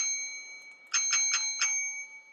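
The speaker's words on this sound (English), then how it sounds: "there's a bell" A bell in the video game Deep Sleep rings four quick, bright strikes over a steady electronic hum, close and clear with no talk.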